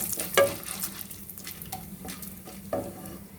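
Asafoetida drops into hot oil in a pan with a soft sizzle while a spoon stirs and scrapes, giving a few light clinks over the low, steady frying.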